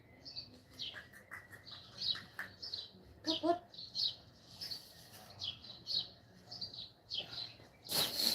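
Small pet birds chirp in quick, bright bursts at close range, calling repeatedly in an irregular rhythm while a person speaks briefly nearby.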